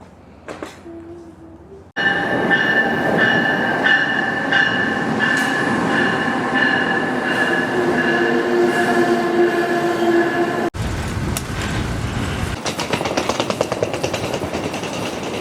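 Amtrak passenger train on the move, heard loud from on board as a rumbling roar with squealing wheel tones and clattering track noise, rising abruptly after a quieter start.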